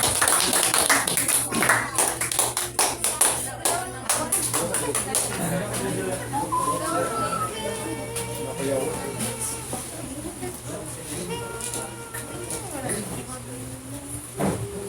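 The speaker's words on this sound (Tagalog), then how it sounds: "So ato ang tagaan og dako na palakpak si Pastor Tom" A church congregation claps for a pastor in a loud burst of applause that is dense at first and then thins out, with talking and voices over it during a worship gathering.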